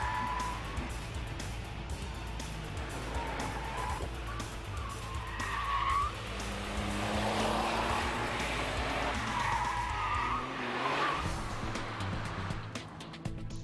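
A Smart car driven quickly through the tight corners of a test circuit, tires squealing and skidding as the engine revs rise and fall at moderate distance, with no talk.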